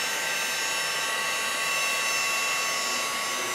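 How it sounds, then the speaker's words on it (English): A heat gun blows steadily, a loud continuous whooshing roar with a faint whine that holds without change. "No, not a hair dryer, a heat gun."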